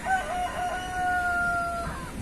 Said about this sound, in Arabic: الصوت ديال الطيور.